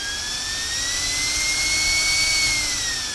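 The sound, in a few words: rack-mounted router running loud, jet-like fan noise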